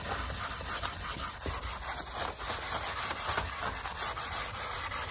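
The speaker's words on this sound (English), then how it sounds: "I'm gonna come back with a little bit of Varsol and I'm gonna scrub" Stained wooden dining furniture is scrubbed with Varsol solvent, making a continuous close rubbing and scrubbing rasp throughout with no talking.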